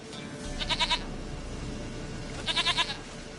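Goat in a video game letting out two quick stuttering bleats, each a rapid wavering burst about two seconds apart, over a quiet ambient game background.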